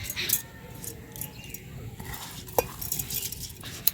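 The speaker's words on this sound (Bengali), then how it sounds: "এই মিক্সি জারের মধ্যে চালটা নিয়ে নিচ্ছি।" Soaked rice is put into a mixer grinder jar, giving soft scrapes, light clinks and a few sharper taps of utensil against the jar, close and fairly quiet.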